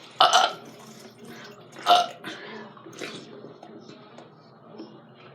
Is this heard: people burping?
yes